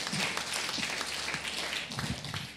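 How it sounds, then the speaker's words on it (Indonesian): Congregation at an evening worship service claps for God, a dense continuous wash of applause with some low murmuring voices mixed in, steady and fairly loud throughout. "Tepuk tangan buat Tuhan Allah kita."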